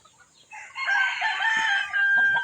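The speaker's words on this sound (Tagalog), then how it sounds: "Open air hen yan." A chicken kept in an open-air coop crows loudly and close by in one drawn-out, strained call lasting about two seconds, with no talking.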